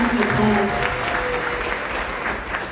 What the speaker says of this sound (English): Please give her a big, big round of applause.